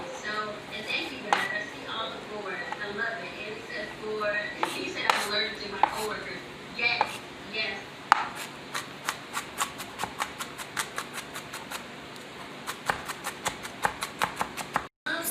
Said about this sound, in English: I'm trying to get these chopped up really small